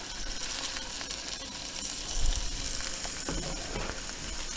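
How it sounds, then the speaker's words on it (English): Venison pieces searing in a hot pan give a dense, steady close sizzle that holds for several seconds, with a slight low thump partway through. "I'm gonna drop it in because I want it to get an individual sear on each of these pieces as much as possible"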